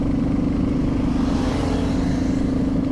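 A Royal Enfield Classic 350 motorcycle being ridden gives a steady, continuous low engine drone with a thumping mid-range hum, close and unbroken throughout.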